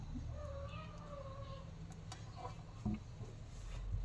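A cat wanting to be let in meows faintly a few times, distant and quiet against steady room noise, with a few small ticks and clicks.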